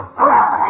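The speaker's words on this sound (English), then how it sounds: "the poor dog looks as if he hadn't eaten for a week" A hungry dog whimpers once, a loud, close, drawn-out whine heard alone.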